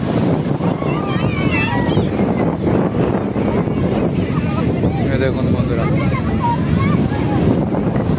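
Large ocean waves breaking on Juhu Beach, Mumbai, a steady loud wash of surf and wind buffeting the microphone, with someone talking over it and crowd voices around.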